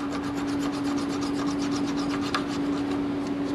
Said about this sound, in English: So I take my file and I start to file this down.